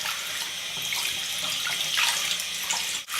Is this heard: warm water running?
yes